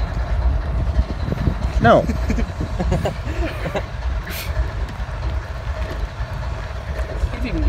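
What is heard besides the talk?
train passing by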